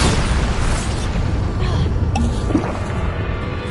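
Bombarda spell explosions in the Hogwarts Legacy video game, a dense run of booming blasts and bursts amid constant loud combat noise, with voice calls layered over the chaos.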